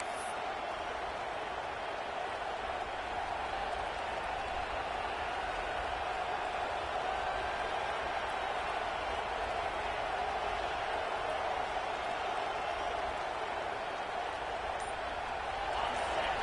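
Continuous roar of a stadium crowd in the NCAA 26 college football video game, late in the fourth quarter of a tied Tennessee game, holding at an even level for the whole stretch with commentary over it.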